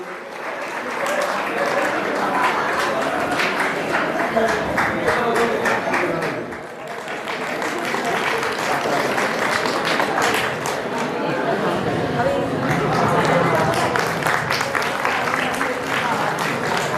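Audience applause at the Basant Panchami fair in Kanvashram, Uttarakhand, greeting a kirtan group's prize win: a dense, steady wash of many hands clapping that dips briefly midway and then swells again, with voices murmuring underneath.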